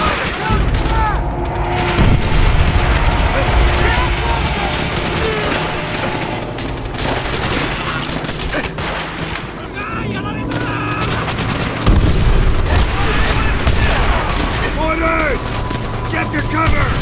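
Dense gunfire and grenade explosions rumble through a Call of Duty: World at War battle at Shuri Castle, with continuous loud rifle and machine-gun fire, heavy booms, and shouted voices over the combat.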